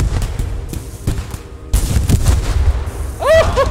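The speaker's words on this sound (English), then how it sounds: "Oh, another cannon!" Repeated cannon blasts from a World War II battle in the shooter game Post Scriptum, loud booming reports scattered among gunfire, with someone shouting excitedly over the din.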